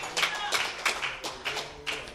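Congregation at a Bethel Family Worship church service breaking into applause, heard as a handful of loose, sharp clapping bursts spaced unevenly, fairly close and moderately loud.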